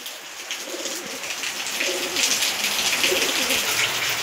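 Wild pigeons coo softly in repeated low phrases over a bright, steady hiss of background noise.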